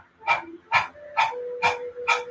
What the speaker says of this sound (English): Tighten the center and begin panting like a dog.